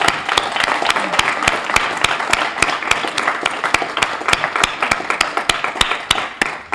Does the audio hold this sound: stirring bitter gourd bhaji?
no